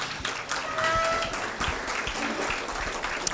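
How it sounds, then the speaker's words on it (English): An audience at a West Maui taxpayers' candidates night applauds the mayoral candidates. Dense, moderately loud clapping carries on for a few seconds, with some voices mixed in. "Let's give our mayoral candidates a round of applause."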